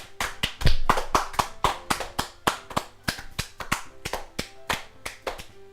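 Applause in the visual novel game Doki Doki Literature Club: a crisp, regular run of sharp hand claps, roughly three per second, loud and close with no voices over them.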